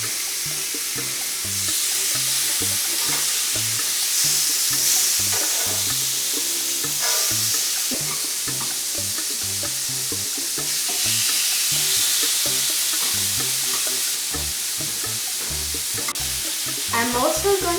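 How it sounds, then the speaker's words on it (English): Marinated salmon sizzling on a grill pan, a steady loud frying hiss lasting throughout with occasional scraping and handling noises nearby, no talk. "Now my rice is done, so I'm going to get my salmon in my grill."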